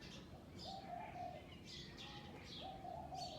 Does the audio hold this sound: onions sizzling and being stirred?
no